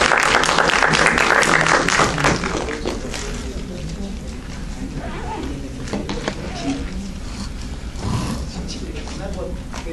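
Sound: applause welcoming a speaker

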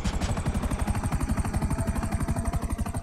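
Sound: helicopter in the video game GTA 5

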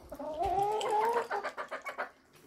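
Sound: hen clucking

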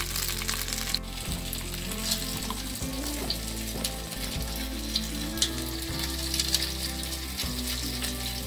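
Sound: masala frying in pan for baigan bharta

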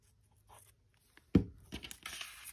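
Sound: tearing a strip of paper for an art journal

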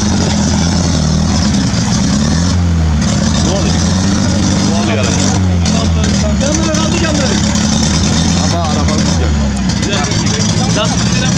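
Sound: 4x4 off-road car engine revving

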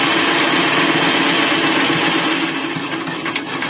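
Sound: sewing machine stitching a flat cap

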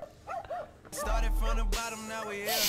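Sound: dog barking on a roof

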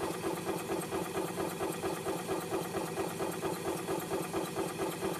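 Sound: 2007 Club Car Precedent gas golf cart engine

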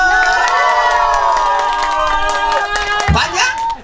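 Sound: crowd clapping and cheering at a festival

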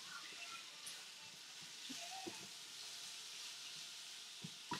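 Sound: minced garlic sizzling in a pan

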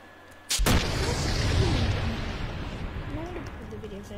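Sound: explosions in Roblox video game

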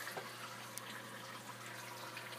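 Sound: water trickling down into aquarium sump

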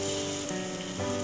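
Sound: batter-dipped purnam balls frying in oil

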